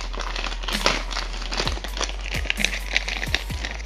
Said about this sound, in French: Je vais quand même le déballer, juste histoire de...